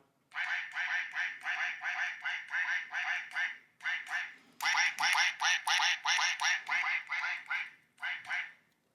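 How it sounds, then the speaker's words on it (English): Repeated duck quacks from a sound effect, two long runs of rapid, loud, nasal quacks with a short break between them, then a final short burst, with no talk. "That deserves all the quacks in the world."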